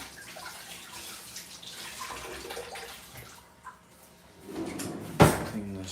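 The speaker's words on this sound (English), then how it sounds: "Let me just rinse my hands." Hands rinsed under a running kitchen tap, a soft steady wash of water at moderate distance, ending with a sharp knock or clatter near the end.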